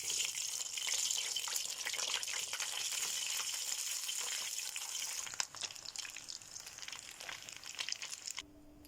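Mumbar, rice-stuffed intestines, frying in a moderate amount of oil in a home kitchen, giving a steady dense sizzle with crackling that eases slightly toward the end.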